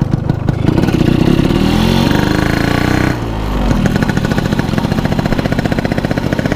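Yamaha RX Special 115cc two-stroke motorcycle, oversize bore with stock gearing, fitted with an Altek C17 exhaust, revving hard nearby in a loud continuous rasping burst that dips briefly midway then resumes with rapid pulsing.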